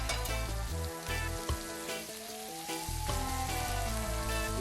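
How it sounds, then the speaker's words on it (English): Blackened Cajun shrimp sizzle steadily as they fry in oil in a pan, a continuous crackling hiss that runs through the clip beneath fairly loud background music with a droning bass. "you see me flipping on the shrimp, trying to get an even cook on each side"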